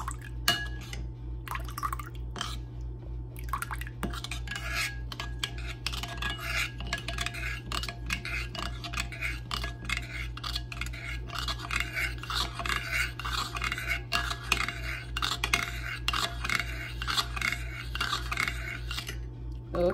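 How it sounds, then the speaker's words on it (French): A mixture is stirred in a bowl with a utensil, giving continuous close scraping and clinking against the sides over a steady low electrical hum, with no talking. "Le mélange, voilà, tourner."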